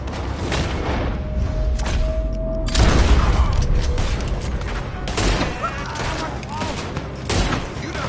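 Gunfire in Red Dead Redemption 2 crackles as a sustained fusillade of close, loud shots with heavy booms in rapid bursts, a steady tone briefly humming underneath while a voice shouts over the shooting.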